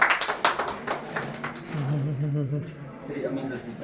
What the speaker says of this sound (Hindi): स्वागत, जोरदार तालियां।